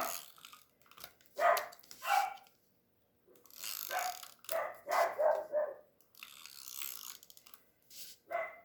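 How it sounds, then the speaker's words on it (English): Several dogs barking from a backyard through an open door, a rapid run of sharp barks and yips in clustered bursts with brief pauses, moderately loud, no talking. "They're out in the backyard and the door is open. There must be a cat or something out there."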